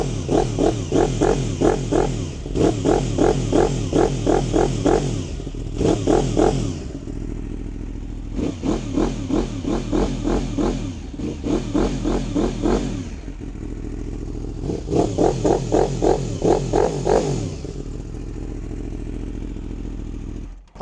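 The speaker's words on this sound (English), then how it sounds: "Let's hear how this exhaust sounds." A 2017 Yamaha R1M sportbike with 9,000 miles, fitted with an aftermarket exhaust, revs hard in repeated bursts, each climbing sharply then dropping back to a rumbling idle, loud and close, in pouring rain.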